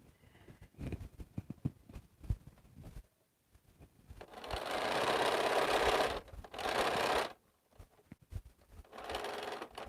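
A sewing machine stitches quilt blocks together into rows for Cleopatra's Fan blocks, starting with short stuttering bursts of needle clatter, then settling into long steady runs broken by brief pauses, close and alone.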